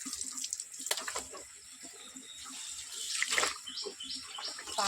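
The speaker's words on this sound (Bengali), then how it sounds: "তাই ভাবলাম যে আগে জামা কাপড়গুলো কেচে দিয়ে আসি" Clothes being washed by hand with water, faint splashing and trickling at close range with irregular sloshes and drips, no voices.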